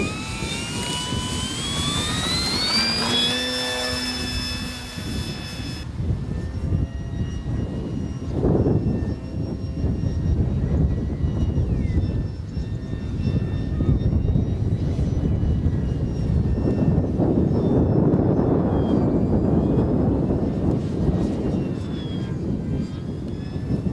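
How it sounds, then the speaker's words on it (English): An E-flite Pulse 15e electric RC model airplane flies in wind, its motor whining steadily with pitch rising and shifting as it climbs and passes, under constant wind rumble and no talk. "Well, I certainly wouldn't like to be flying in that aeroplane."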